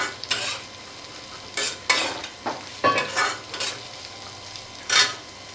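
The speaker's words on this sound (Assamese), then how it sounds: "এতিয়া মই কাটি থোৱা কঁঠালৰ গুটিখিনি প্ৰথমতে দি দিছোঁ। এইখিনি অকণমান ভাজি ল'ম।" Cut jackfruit seeds frying in a pan over a gas flame, a low steady sizzle broken by several sharp scraping bursts as a utensil stirs them against the metal, close and fairly loud, with no speech.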